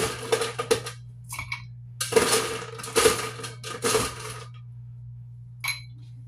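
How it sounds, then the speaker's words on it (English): Ice cubes drop into a glass for a Lynchburg Lemonade, making a run of sharp, close clinks and rattles in uneven clusters with short silences between them. "Fill this glass up with some ice."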